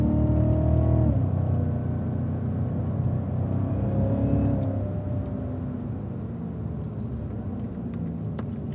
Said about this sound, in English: roll into the throttle, accelerate hard, and upshift to 0